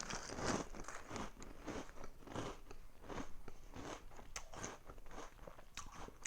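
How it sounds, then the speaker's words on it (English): Repeated crunchy bites into a Cap'n Crunch cereal cup loaded with berries, a steady run of close, crisp crackling chews with no talking. "So let's have this first bite and put a lot of berries in there."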